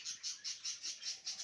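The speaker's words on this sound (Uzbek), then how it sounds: "Amadina qushlari mana." Amadina finches in an aviary give a steady run of bright, high chirps, about six evenly spaced calls pulsing in quick rhythm, fairly faint and close, with no voices over them.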